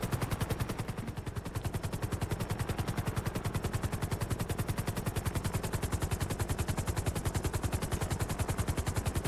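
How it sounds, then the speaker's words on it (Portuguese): Rapid automatic gunfire from a golden gun in a video game rattles on continuously and loudly, a dense unbroken stream of shots with no talk over it. "posso atirar, hein? Eu vou atirar."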